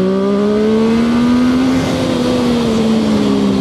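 A Zontes 703RR motorcycle accelerating hard in first gear, its engine tone climbing steadily in a loud, close, continuous rising whine, with wind rush underneath and no talk.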